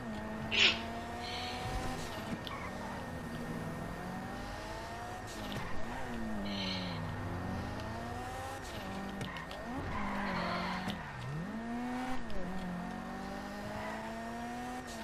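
A car is driven in GTA V Online with an engine revving up and down through repeated gear swells, tires squealing and skidding across several turns, and a few sharp knocks, all held at moderate loudness.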